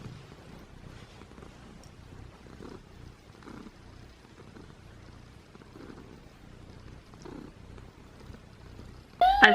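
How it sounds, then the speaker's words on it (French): A cat lying on a bed purrs close to the microphone, a soft rhythmic rumble with regular breathing pulses, ending in a sudden louder rustle. "Et pour ceux qui aiment les ronronnements."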